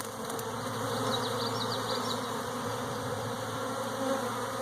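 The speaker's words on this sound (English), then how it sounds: "There's some bees lighting on that little elm tree." Bees swarm and settle onto a little elm tree, their continuous loud buzzing hum filling the air up close without a break, individual wingbeats flickering over the steady drone.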